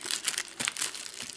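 A plastic bag with an adhesive seal, holding cards and counters for a board wargame, crinkles and rustles continuously as it is pulled open, a close, soft crackling texture with no talking.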